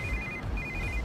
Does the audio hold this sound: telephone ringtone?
yes